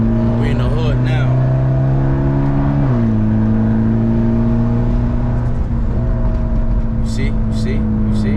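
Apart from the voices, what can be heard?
Mitsubishi Evo X engine revving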